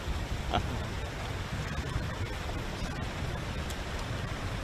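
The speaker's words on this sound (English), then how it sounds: "It's flowing water." Steady broadband rush of flowing water near a river spillway, constant and fairly even over the whole stretch, heard from a fishing boat on the Mississippi at La Crosse, Wisconsin.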